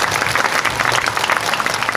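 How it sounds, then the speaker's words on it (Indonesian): Brief crowd applause at a large religious haul gathering in Indonesia, dense and continuous throughout. "Tepuk tangan untuk Pak Giri."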